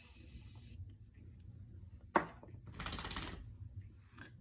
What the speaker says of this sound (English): I'm actually gonna spray it with just a little bit of setting spray